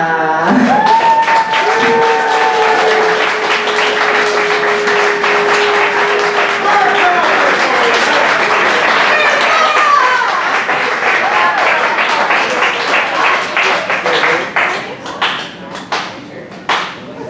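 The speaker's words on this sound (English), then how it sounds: "Please give me a round of applause for our next poet," Sustained audience applause at a poetry slam greeting the next poet, a dense crowd of clapping that rolls on loudly for many seconds before thinning into scattered claps, with a few faint vocal tones early on.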